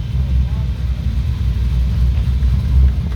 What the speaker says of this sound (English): 427 LS under that hood, 3-inch exhaust all the way to the back